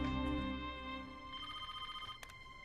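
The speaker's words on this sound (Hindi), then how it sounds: "कोई मिस्टर देसाई का फोन है." A telephone rings indoors with a bright electronic ringtone, steady and moderately close, over faint background music.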